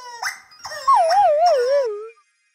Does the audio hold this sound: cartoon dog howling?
yes